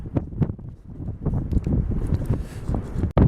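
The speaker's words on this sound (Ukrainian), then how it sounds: "такий вітер капітальний" Steady gusty wind by the Dnipro River buffets the microphone, a continuous low roar with brief rustling and thumps, and one sudden dropout near the end.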